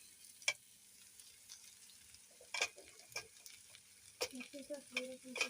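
Sautéed onions with tomato and garlic fry in a pan for a spicy chutney, giving soft sizzling broken by scattered clinks and stirring scrapes, quiet and close.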